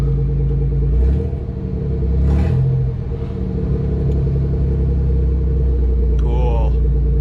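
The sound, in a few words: 1994 Pontiac Trans Sport minivan engine running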